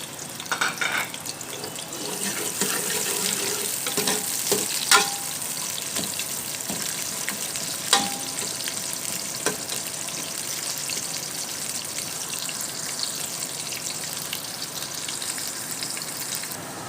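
Sliced onions frying in two spoons of oil in a pan, a steady close sizzle throughout with occasional clinks of a stirring spoon.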